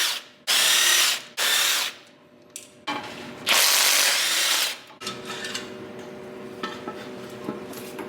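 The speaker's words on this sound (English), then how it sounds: "we are going to go ahead and just pull these head bolts really quick" Power tool spinning out head bolts on a Duramax diesel engine, several loud bursts of drilling or impact-driver whir with short gaps between, followed by softer ratcheting and metallic clicks close by.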